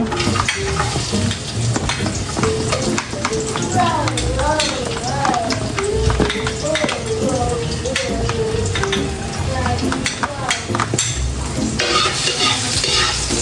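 Minced garlic sautés in cooking oil for pork menudo, a continuous sizzle with scattered crackles and stirring scrapes, while a person talks over it for most of the time.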